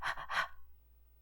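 A person imitates a newborn baby panting fast, with two quick breathy gasps followed by silence as the breathing stops.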